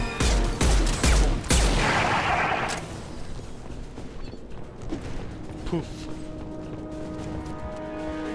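Gunfire in Mass Effect 2 opens with several sharp, loud shots in quick succession, then gives way to lower mechanical clatter and ambient hum for the remainder.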